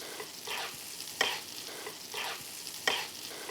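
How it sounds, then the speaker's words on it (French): Meat sizzles steadily in butter with onion in a pan, with periodic louder bursts as hot butter is spooned over it, close and continuous with no talking. "comme on arrose notre pièce de viande avec le beurre"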